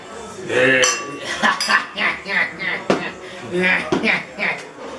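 Glasses clink together in a toast, with several sharp chinks scattered through the clip as people talk and cheer over them at close range.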